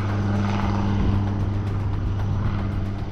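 An Advanced Light Helicopter Dhruv flying in Siachen, a steady loud rotor and engine drone with a rhythmic low thrum that continues unbroken throughout.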